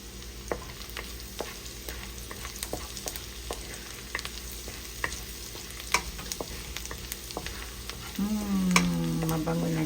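Ginger fries in a hot pan with a constant sizzle, broken by frequent crisp pops and clicks of stirring. The sizzle swells louder over the final couple of seconds.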